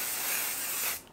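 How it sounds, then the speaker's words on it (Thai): Sunscreen spray being sprayed from an aerosol can, a steady close hiss lasting about a second before cutting off abruptly. "นี่ซื้อสเปรย์ฉีดกันแดดมาฉีดเลย"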